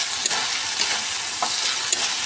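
Sliced onion and red lentils fry in a pan for a pointed gourd curry, with a steady close sizzle broken by a few scraping stirs of a spoon, and no voices.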